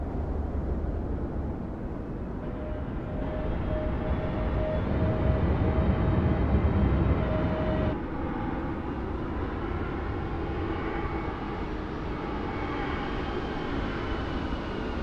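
A simulated airliner rolls down the runway in Microsoft Flight Simulator 2024, giving off a steady, continuous engine roar and rumble that stays even throughout, with no talking.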